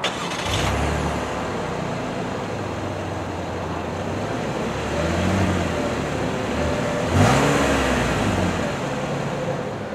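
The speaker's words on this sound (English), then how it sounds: "put your foot on the brake, and press the dash mounted start button" A 2017 Cadillac XT5 Platinum is started with its dash-mounted push button. The engine gives a soft surge, then settles into a quiet, steady idle heard from inside the cabin.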